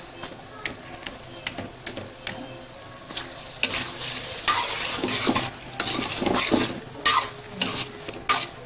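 Hilsa fish heads frying in a pan with greens, loud wet sizzling and repeated scraping stirs with a utensil, surging in bursts close by, no talk.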